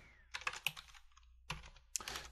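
A computer keyboard clatters as a command is typed, two quick bursts of close, crisp keystrokes separated by a short silence, with no voices.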